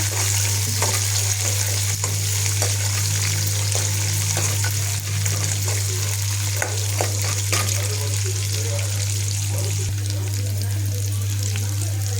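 Poha ingredients with curry leaves fry steadily in hot oil, a continuous crackling sizzle with occasional stirring clicks, accompanied by a low constant hum and a voice talking over it.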